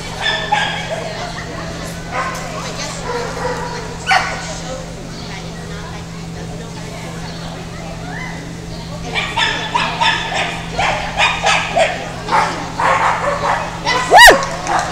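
A dog gives short, excited barks and yips while running an agility course, the bursts clustering loudly toward the end, with crowd noise and voices around.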